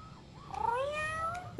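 A single drawn-out cat meow rises and falls, close and clear, against a quiet background.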